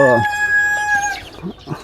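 A farmyard rooster crows once up close, a loud drawn-out call at the start, followed by a few softer clucks and faint background sounds.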